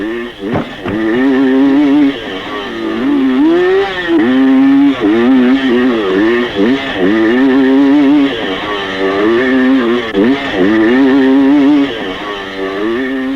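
A motorcycle engine revs loudly and close, its pitch surging and dropping repeatedly as the rider works the throttle, with a brief lull partway through before it climbs again.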